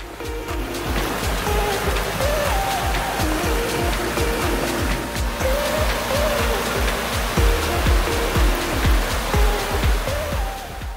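A calm river flowing beside a riverside campsite at Legok Gintung: a continuous, fairly loud rush of water with a steady, churning texture and low, rolling surges, and no voices.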